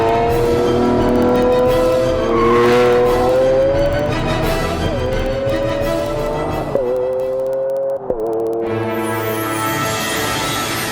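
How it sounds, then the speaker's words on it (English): A Lamborghini Aventador V12 engine revs hard, rising in smooth climbing pitches through several gears with sharp shift breaks near the end, loud and continuous with no talk. "This 12-cylinder symphony has a full range, from a moderate rumble through the town at low revs to the screaming crescendo of"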